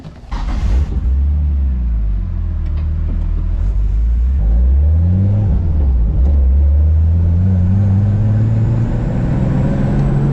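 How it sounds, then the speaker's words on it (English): A Nissan S13 project car on a test drive, its engine rumbling steadily from inside the cabin, with the pitch rising and falling as it accelerates and shifts. "So let's go on a little test drive."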